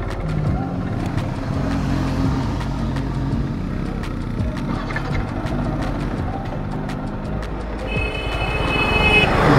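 A Yamaha R15 V4 motorcycle rides along with its accelerator jammed, the engine droning steadily with wind rush throughout and the revs climbing louder toward the end.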